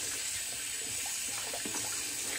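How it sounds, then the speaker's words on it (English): Tap water running steadily into a sink during a wet shave, a close, even hiss of flowing water that continues unbroken from start to end. "let me get a little more water in here"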